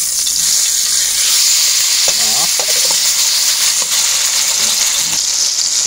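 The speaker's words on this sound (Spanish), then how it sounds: "Doy la vuelta a la pierna de pollo." Chicken leg frying in hot oil, a loud, steady, close sizzle and crackle running throughout with small bubbling pops and faint voices in the background.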